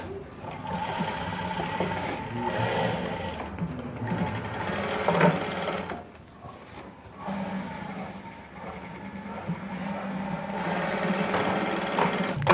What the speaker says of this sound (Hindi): अब इसमें हमने एक सिलाई लगानी है